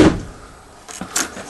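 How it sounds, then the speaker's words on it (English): Door in a tiny house park model, swung shut with a short thud at the start, followed by faint latch clicks and light knocks near the end; close and fairly loud, no talking. "Close that door."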